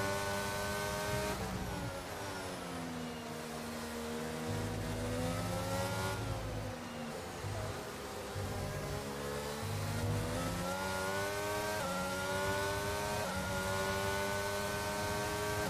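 Several race car engines rev and accelerate together at a virtual safety car restart in a racing video game, a loud continuous multi-engine drone with rising and falling pitch sweeps throughout.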